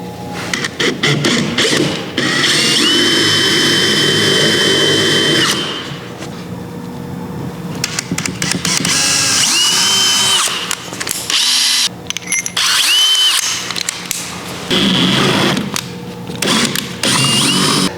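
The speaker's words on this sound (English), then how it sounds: "everybody gets a little bit nervous drilling holes in their kayak" A power drill with a 5/16 inch bit whirs loudly and close by in several sustained bursts as it drills holes in a kayak, with brief pauses and a clattering mechanical rattle between runs.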